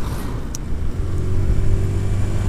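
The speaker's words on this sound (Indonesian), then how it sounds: "Ternyata ada dua motor lagi balap." Two motorbikes race along a road on a sunny afternoon, their engines a close, steady drone that swells slightly as they pass, with no talking.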